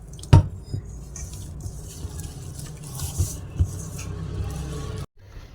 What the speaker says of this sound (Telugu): ఈ విధంగా పిండిని కలుపుకోవాలండి,